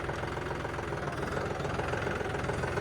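An unmodified John Deere 5210 V2 tractor's diesel engine idles steadily nearby, a continuous low, knocking rumble with no talking.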